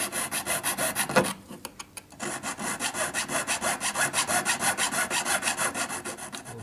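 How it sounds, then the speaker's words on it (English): Steady rhythmic rasping strokes of a file worked back and forth on a metal pendant part, repeating evenly with a brief pause near the start. "I'll just have to file this off at an angle"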